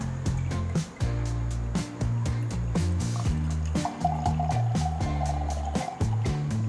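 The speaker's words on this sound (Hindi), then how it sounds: "डालते हैं ग्लास में।" After Dark whisky pours into a glass, a steady liquid glug and trickle heard up close and fairly loud, with a few brief breaks in the flow.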